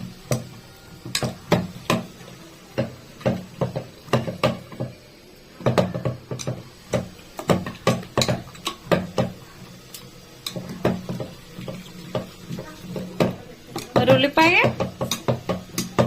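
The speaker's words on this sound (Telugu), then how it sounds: "అదే ఇక రుబ్బుతున్నాను చూడండి" Gongura dal mixture being ground by hand, irregular knocking and scraping strokes of a spoon or pestle against a vessel, close and fairly loud, with someone speaking throughout.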